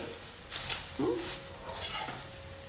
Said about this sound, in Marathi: पहिला फोडणीमध्ये हे छान मिक्स करून घ्यायचे.